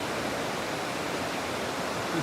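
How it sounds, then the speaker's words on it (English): Housatonic River rushing through rapids under a footbridge, a dense, even roar of flowing water heard close and steady without any voices. "This is the Housatonic River, I believe."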